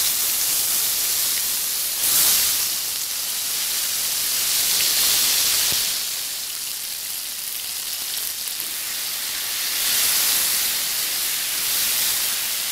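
Pointed gourd sizzles in hot mustard oil with turmeric in a wok, a steady broadband hiss of frying that swells and eases a few times without any talk.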